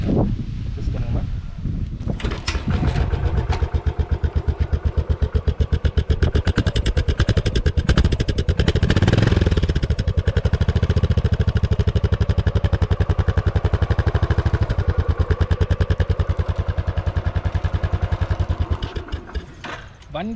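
Kick-started Royal Enfield motorcycle with a stock silencer and 50,000 km on it, a close, steady thumping idle that runs throughout with a rapid even pulse, while someone talks over it.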